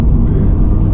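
A Toyota GR86 sports car engine rumbles low and steady while driving on a road with traffic ahead, a brief continuous drone with no voices.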